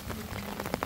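Rain patters steadily on an outdoor sports court in El Salvador during a heavy seasonal storm, a soft continuous wash with a few sharper drops standing out near the end.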